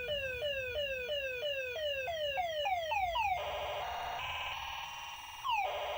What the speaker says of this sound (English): And this is the Star Chess title screen. It is very loud, very noisy.